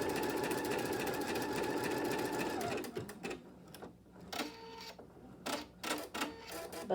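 An embroidery machine stitches quilt borders with a steady rapid mechanical chatter that stops partway through. Intermittent clunks and handling taps follow at close range.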